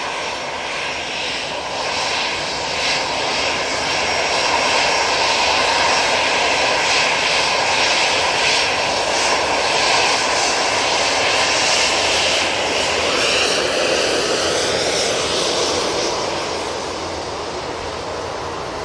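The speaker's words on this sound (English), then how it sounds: "Lufthansa coming on in front of us now." Lufthansa Airbus A320 jet at Manchester Airport, a loud, steady engine roar that holds for the whole stretch, heard close with no talk over it.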